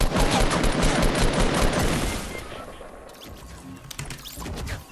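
Rapid bursts of assault rifle fire in Fortnite rattle loudly for the first couple of seconds, then thin out into scattered, quieter shots and impacts.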